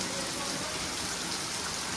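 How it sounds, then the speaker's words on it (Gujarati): Rain pours down steadily as a dense, even hiss of drops on surfaces, continuous and moderately close, with no talking. "વરસાદ થઈ ગયો"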